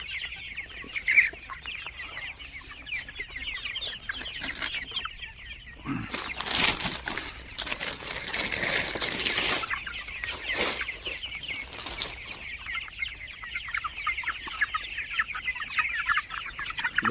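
Tiger-breed chickens, 37 days old, cluck and chatter steadily on a farm, a busy flock close by with a short burst of louder squawking and flapping midway.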